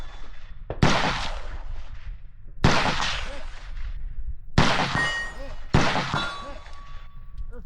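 Four loud, sharp gunshots ring out at a shooting and fitness competition, spaced about two seconds apart, each followed by a brief metallic ring and echo, with a faint voice between shots.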